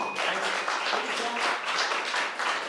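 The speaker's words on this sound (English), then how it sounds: "Please don't clap for me." An audience claps at a school board meeting of the Lake Mills Area School District: a steady, dense wash of applause from a roomful of people that holds at an even level throughout, with voices mixed in.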